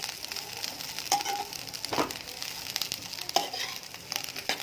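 Dried cauliflower pieces lightly frying in a little oil in a pan, a soft steady sizzle with occasional stirring scrapes and crackles, fairly quiet and without voices.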